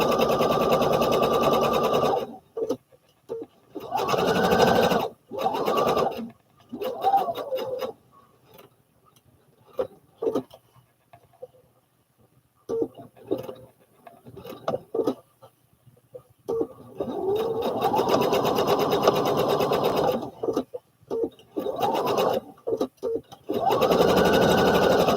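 A sewing machine stitches denim overalls made from McCall's 7464 pattern, running in several fast, rhythmic whirring stretches with pauses between, close and clear, with brief talking in the quieter gaps.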